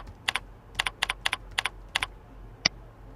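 Fingers type a username and password on a computer keyboard, producing short clusters of crisp, close key clicks in bursts of two or three, ending with one sharper single keystroke, against a quiet room with no talking.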